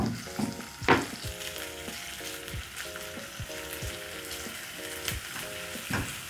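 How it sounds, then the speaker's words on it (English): Bacon fries in hot oil in a pan with a quiet, continuous crackling sizzle, faint and steady, with a soft tonal hum and an occasional louder pop. "Then I'm going to wait for the oil to get hot a little bit. And I'll add my bacon in the pan."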